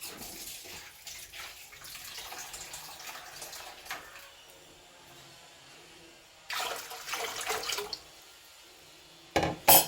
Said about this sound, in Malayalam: അപ്പോൾ കുറച്ച് ജാസ്തി വെള്ളം ഒഴിച്ച് കൊടുക്കേണ്ടി വരും.